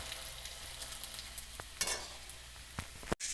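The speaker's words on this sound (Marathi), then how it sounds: "सगळीकडे पुरण गेलं पाहिजे अशा पद्धतीने पोळी भाजून घ्यायची आहे" Puran poli, a sweet stuffed flatbread, roasts on a hot griddle with a quiet, steady sizzle. Soft scrapes and taps of the spatula come at irregular intervals, and a sharp click occurs near the end.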